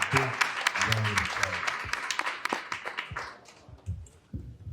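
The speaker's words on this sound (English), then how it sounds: "let's make sure we give Al Burts a big round of applause" An audience at a gallery opening night applauds an artist with a burst of scattered clapping that thins out over a few seconds, with murmured voices mixed in.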